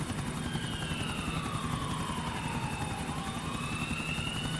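A police EC145 helicopter on patrol, heard as a loud continuous rotor chop and turbine whine over a steady throbbing drone, with a siren-like tone sweeping up and down through the middle.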